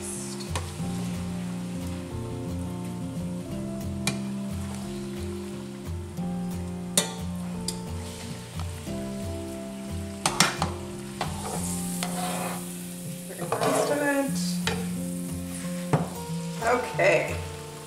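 A burger patty made with cabbage fries and sizzles in grease, a steady close crackle running throughout, with a few louder pops and scraping stirs near the end and sustained tonal hum beneath.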